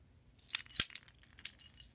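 A hamster's glass water bottle being handled: a few light glassy clinks and taps, close and fairly quiet, with no talk.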